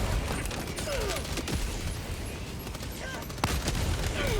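The Eruptor gun fires in a video game amid a dense, continuous wash of booming shots and battle noise, with sharper blasts standing out now and then.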